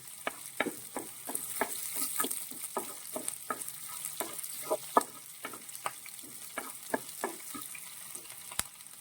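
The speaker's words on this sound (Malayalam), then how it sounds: "ഇഞ്ചിയും പച്ചമുളകും എല്ലാം കൂടി നന്നായിട്ട് ഒന്ന് എണ്ണയിൽ കിടന്ന് മൂത്ത് വരുമ്പോഴേക്കുമാണ്" Ginger and green chillies frying in hot oil in a home kitchen while a pickle is being made, with a steady sizzle broken by frequent sharp crackles and pops as a spoon stirs, close and moderately loud, no talking.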